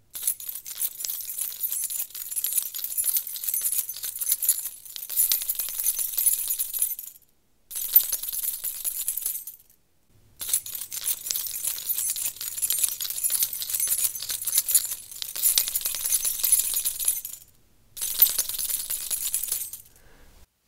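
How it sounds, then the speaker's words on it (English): Keys jangling close to a small-diaphragm condenser microphone, in bright metallic bursts of shaking separated by short silent gaps, loud and clear with no talking. "That is the keys jangle test."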